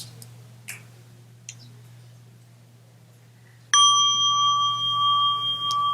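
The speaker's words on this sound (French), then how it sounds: "je vais venir offrir un son de cloche" After a few faint ticks, a single meditation bell rings out clearly and keeps sustaining with a pure, bright tone.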